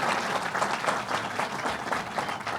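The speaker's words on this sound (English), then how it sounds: "Give her a round of applause." An audience applauding a state senator at a governor's announcement at Belmont Park race track, a dense, steady burst of clapping from a crowd, moderately near and unbroken throughout.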